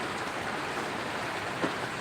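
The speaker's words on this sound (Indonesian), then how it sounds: "Ini saya tidak bisa memvideokan keluar karena hujannya cukup deras banget." Heavy rain pours down during a flood on the southern coast of Mandeh, a steady, dense wash of water noise with no pauses and no voices.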